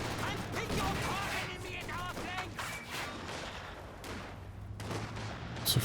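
Artillery blasts and gunfire rumble through a Company of Heroes 2 battle, with quiet, dense overlapping explosions and shots under a commentator's continuous talk.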